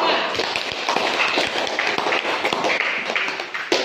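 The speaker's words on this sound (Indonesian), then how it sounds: "mari kita tepuk tangan untuk kelompok 3" A class applauds a student group in a lesson, with scattered claps and taps spread through the stretch under ongoing chatter and voices in the room.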